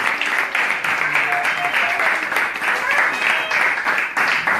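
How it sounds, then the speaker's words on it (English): Audience at a Sunday talk at a Hare Krishna temple in Newcastle gives a steady, fairly loud round of clapping, with a faint voice or tone briefly audible underneath. "let's give Durgesh a big round of applause as well."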